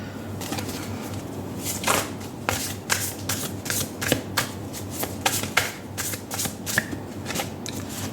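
Tarot cards shuffled by hand in a steady run of quick, crisp riffling snaps and slaps, close and fairly quiet, with no talk over them.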